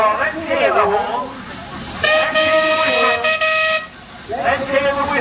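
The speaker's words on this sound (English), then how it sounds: "Let's hear the whistle." A steam traction engine at a rally sounds its whistle in several loud sustained blasts, with shrill harmonic tones rising and falling, close by and against a low background of engine noise and crowd.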